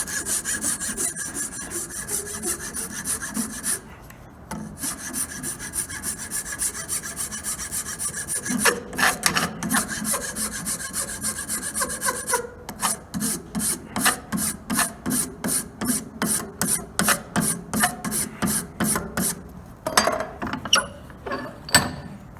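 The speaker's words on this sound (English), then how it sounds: "Then you're going to file it down." A file rasps across a wooden dowel clamped upright in a vise, scattered strokes at first, then a fast, regular run of short, loud back-and-forth scrapes, close and alone.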